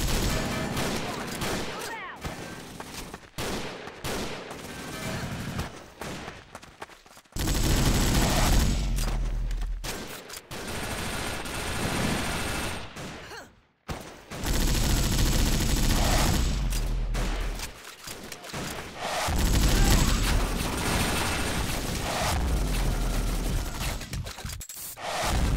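Dense, rapid gunfire in the game WarRock crackles almost nonstop, with bursts of automatic shots and brief gaps, loud and close.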